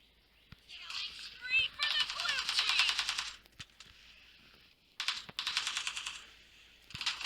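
Automatic gunfire in an online shooter game comes in rapid, dense bursts with short pauses between them, fairly close. Sharp single clicks are scattered through the clip.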